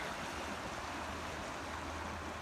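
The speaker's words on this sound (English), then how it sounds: "still a lot of water going across" Floodwater flows across a partially flooded pasture after heavy rain, a faint, steady rushing wash that continues without a break.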